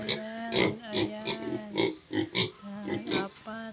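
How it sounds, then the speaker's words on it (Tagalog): On a farm, a group of pigs grunts and oinks close by in a rapid, irregular series of loud, nasal calls, with no other sounds between them. "At saka ito yung baboy."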